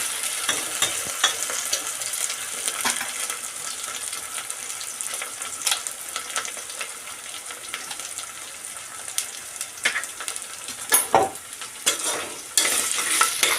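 Ingredients sautéing and stirred in a pan while cooking hirva vatana bhaat, a green pea rice dish, giving a continuous close sizzle with spoon scrapes and stirring clatter, growing louder near the end.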